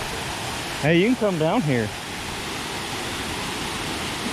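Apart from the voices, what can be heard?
Meigs Creek Cascade waterfall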